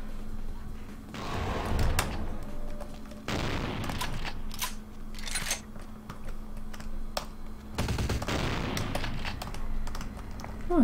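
Gunfire inside Vampire: The Masquerade – Bloodlines comes in several loud bursts of broadband cracks and rattles, mixed with clattering, keyboard-like clicks over a steady low hum; no talk is heard.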